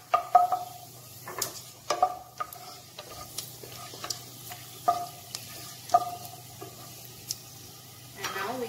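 Dry spices toss in hot oil and ghee for a Shahi white chicken korma, giving a light crackle with repeated sharp stirring clicks and spoon taps against the pan at close range, and no voice over it.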